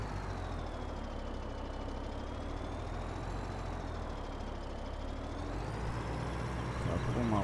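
A truck drives in Farming Simulator 17, its engine droning steadily and close throughout, with slowly shifting pitch and a faint beeping near the end.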